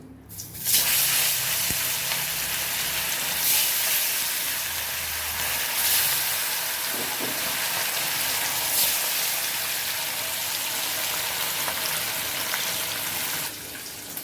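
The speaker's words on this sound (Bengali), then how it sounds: "তেলটা গরম হয়ে গেছে, এখন এক এক করে মাছগুলো ভেজে নিচ্ছি।" Steady, loud sizzling and crackling of fish frying in hot oil, continuous throughout with no talking.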